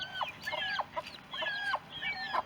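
Homestead hens cluck in quick repeated bursts, several birds close by and overlapping, with a steady busy rhythm of short calls and no voices.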